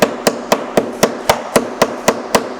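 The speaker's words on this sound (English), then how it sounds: "Give this a good old cut. And a bashing. Oh, sorry, you needed a hammer as well." Sharp hammer blows bash flower stems at a steady, even rhythm, about ten hits in quick succession, close and loud with no talking.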